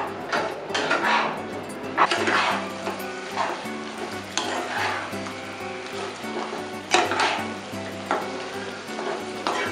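Food is stir-fried in a pan with a lively sizzle, repeated scraping and clanking of a spatula against the metal, and bursts of stirring spread across the whole stretch over a low steady hum.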